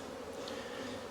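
Honey bees buzzing in and around a cell builder hive during beekeeping maintenance, a dense, steady close drone with no talk.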